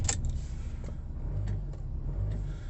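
VW Transporter T6 van engine starting and settling into a low idle, a quiet steady rumble following a short sharp onset, with faint clicks scattered through.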